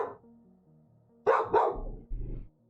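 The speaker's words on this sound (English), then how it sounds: "The dog's under the desk here." A dog barks from under a desk indoors during a Black Ops 4 gaming session, two or three loud, close barks in quick succession over a quiet room.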